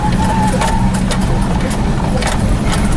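A vehicle crawls at walking pace along a rough, single-lane dirt access road to an off-grid homestead, with a steady low engine rumble and scattered rattles and bumps throughout.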